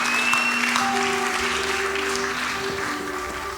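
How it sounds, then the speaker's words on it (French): Church congregation clapping during a worship service, a fairly even wash of applause with sustained instrument or organ tones held underneath, gradually easing off toward the end. "On applaudit le roi des rois."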